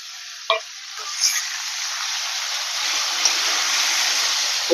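Onion and tomato sauté in a kadai for a quick veg pulao: a steady broadband sizzle carries throughout, with a few sharp stirring knocks early on and near the end, and no voices.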